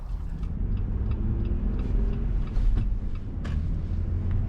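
Jeep Gladiator pickup with the 3.6-liter Pentastar V6 and manual gearbox driving on the road: a steady low engine rumble and road drone, heard from inside the cab, fairly loud and continuous with no talk.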